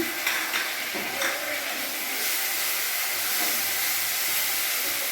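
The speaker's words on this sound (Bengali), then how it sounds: "এরই মধ্যে আমি এখানে আদা রসুনের যে লঙ্কার পেস্ট ছিল পেস্টটা আমি দিয়ে দিলাম" Ginger, garlic and chili paste sizzles in hot oil with frying onions in a home kitchen pan, a steady bright hiss with faint clinks of stirring throughout.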